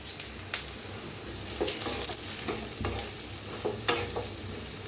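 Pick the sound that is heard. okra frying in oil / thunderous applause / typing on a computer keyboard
okra frying in oil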